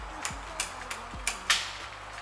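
A bicycle's rear gear shifter clicks through several shifts, sharp light ticks spaced about every third of a second with faint chain and derailleur mechanism noise between them, close and quiet.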